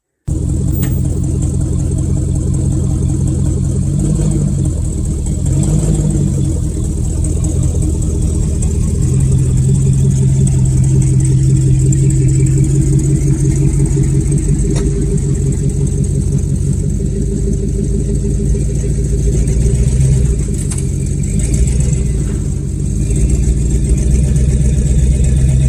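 A truck engine pulls a bumper pull trailer, a steady mid-pitched running drone with low rumble that lasts throughout, swelling slightly at times as the load moves, close and continuous with no talk.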